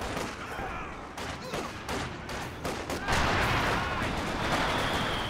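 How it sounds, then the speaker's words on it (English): Battlefield gunfire in Company of Heroes 2, a World War II strategy game, with a machine gun suppressing troops: rapid repeated shots and thuds over a dense, loud combat din, with no talk. "Oh, getting suppressed by the MG."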